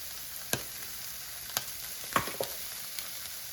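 Chicken livers seasoned with salt and pepper sizzle in a hot pan, a soft steady frying hiss broken by a few sharp spatula scrapes and taps as they are mixed.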